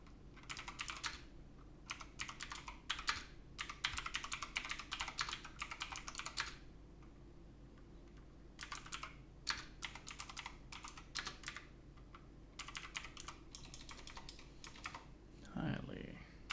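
Bursts of fast keyboard typing on a computer, clustered in several runs separated by pauses, close and clear; a voice speaks briefly near the end.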